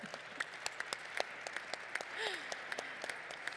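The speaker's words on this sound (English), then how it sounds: "give yourself a big round of applause" A small, sparse audience claps at the close of a discussion on key takeaways and next steps, scattered individual claps with a faint voice passing briefly underneath, fairly quiet and distant.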